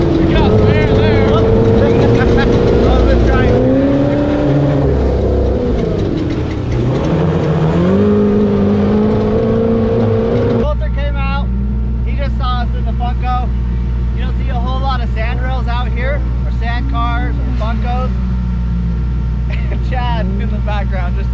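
A Funco sand car driving over sand dunes, its engine droning loud and close with rising and falling revs, then settling into a steady heavy hum while people talk over it.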